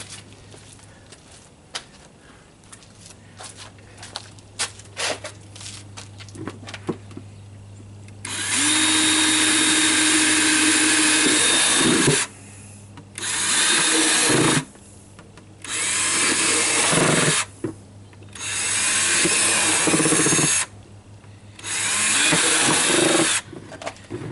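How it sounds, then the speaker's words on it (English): A power drill whines in four or five loud bursts, drilling holes in the bottom of a plastic pot, each a few seconds long with short pauses between, after quieter handling noises. "I got to drill some holes in the bottom"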